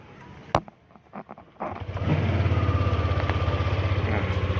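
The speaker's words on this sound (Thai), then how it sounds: "ตอนนี้รถสตาร์ทอยู่นะครับ" After a few sharp clicks, a Yamaha Lexi 125 scooter engine fires up and settles into a close, loud idle with a rapid, even pulsing beat.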